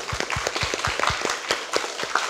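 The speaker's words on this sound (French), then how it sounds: "de les applaudir encore une fois, de les féliciter pour leur prestation" Audience applause at a student eloquence contest, rendered as steady crowd clapping with dense, overlapping hand claps throughout, fairly close and moderately loud.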